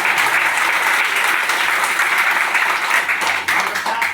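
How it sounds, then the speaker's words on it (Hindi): A seminar audience in Kanpur breaks into loud, continuous clapping close to the microphone, a dense wash of applause that holds strong for about four seconds with faint murmuring underneath. "तो एक दफे ताली बजा दीजिए थोड़ा सा।"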